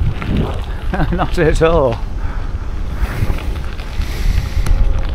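Headwind buffets a cyclist riding uphill, a loud, continuous low roar of wind across the microphone, with a short burst of speech at the start.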